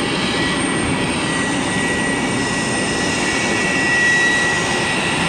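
A plane carrying the remains of a Korean War soldier arrives, its steady jet engine roar loud and continuous throughout, swelling slightly near the end with no talk over it.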